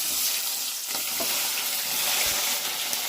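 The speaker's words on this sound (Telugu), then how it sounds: "ఫస్ట్ వేసేది ఏంటంటే ఉల్లిగడ్డలు ఆయిల్లో వేసుకోవాలా" Sliced onions sizzle steadily in hot oil at the start of a village-style fish curry, a dense, close crackle with no voices.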